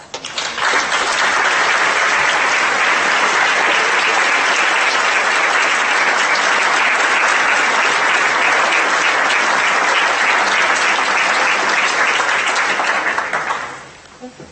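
Sustained applause from an audience at a school alumni weekend assembly, dense clapping filling the hall loud and steady for over ten seconds before fading away at the end.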